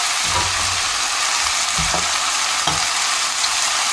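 Vegetables sizzle and crackle steadily in hot olive oil in a saucepan, with a few soft clunks of stirring, close and continuous without speech.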